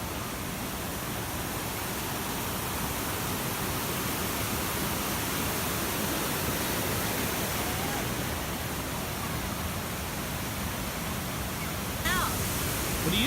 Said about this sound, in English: Here's some of the falls.